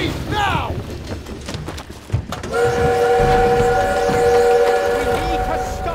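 Railroad train in an action chase scene rumbling past loudly with a sustained steady roar and tonal whistle-like hum, preceded by chaotic shouting and clattering.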